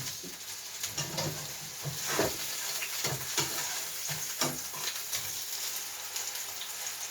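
Beef mince frying in a pan for burgers gives a steady close sizzle, broken by several scraping stirs and faint clinks throughout.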